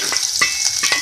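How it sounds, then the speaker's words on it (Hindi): Medium-sized onions, sliced, sizzle loudly in hot oil for a bhindi gravy, a steady close frying hiss broken by a few soft stirring scrapes. "सबसे पहले हम ऑयल में ऐड करेंगे प्याज।"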